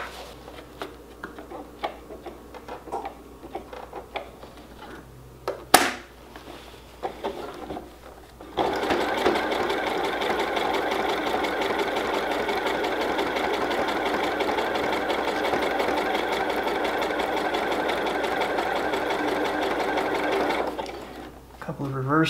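A sewing machine runs steadily for about fourteen seconds stitching a seam on a pair of shorts, a fairly loud continuous whir after some quieter handling noises and a sharp click.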